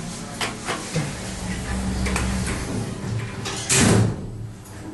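Lift doors in a building slide open or closed with a rumbling glide and a louder thump near the end, close and alone with no talk.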